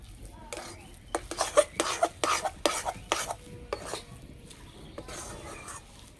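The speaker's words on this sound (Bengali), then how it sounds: "অল্প অল্প দেবো আর এইভাবে মেশাতে থাকবো" Sweet potato dough mixed with flour being stirred in a pan over a low flame, making a series of irregular scraping and clattering bursts that come close together, then grow softer.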